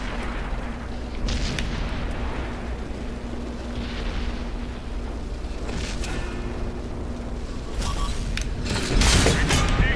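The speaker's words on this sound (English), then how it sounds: "Really didn't need to bounce that shot" A tank shell glances off a T-34 in a tank battle game amid steady engine rumble and mechanical creaking, ending in a louder metallic impact and boom near the close.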